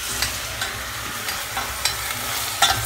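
Potato pieces fry in a pan with a constant loud sizzle, punctuated by periodic scraping stirs and light utensil taps.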